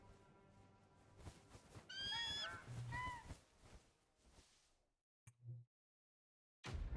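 Chocobo bird calls in the Final Fantasy 16 video game: a loud, warbling, whinny-like cry with a honking quality, then a short squawk after a pause, set over soft game music.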